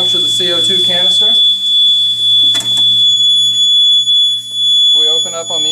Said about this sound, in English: We open up on the inside, we can silence the alarm and also reset the system.